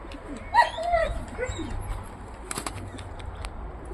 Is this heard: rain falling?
no